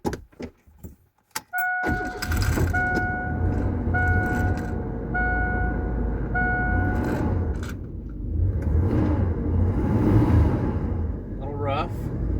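A 1988 Ford Ranger STX engine, started after sitting for two days, cranks and catches at about two seconds, then runs loud and steady close by with a faint high whine and a short rev near the end.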